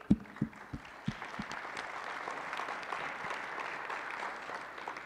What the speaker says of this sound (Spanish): un aplauso de nuevo para ellos.